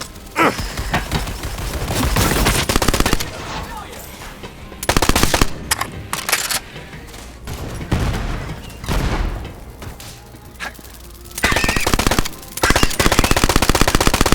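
Rapid automatic gunfire from the video game Borderlands 3, loud bursts of machine-gun fire and booms in several clusters separated by short lulls, with no talking.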